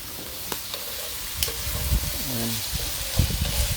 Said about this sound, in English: let me stir this up now